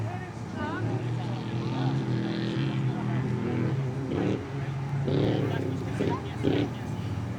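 Off-road race trucks roar nearby at Rage at the River 2016, a 7200-class truck running against trophy trucks, engines droning and shifting under continuous commentary.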